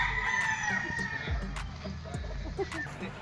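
A Boston Black straight-comb battlestag gamefowl on a game farm crows nearby, mixed with other fowl clucking and a few sharp knocks in the background.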